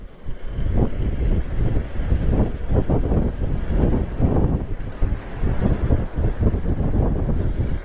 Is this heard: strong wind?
yes